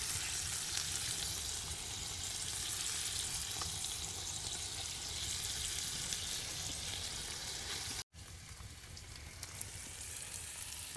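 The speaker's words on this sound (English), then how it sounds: "I'm gonna have to melt it in the pan and put the bread right in the pan" Bread fries in plenty of melted butter in a pan at a camp. The sizzle is dense, close and steady and runs almost unbroken, with a brief dropout partway through.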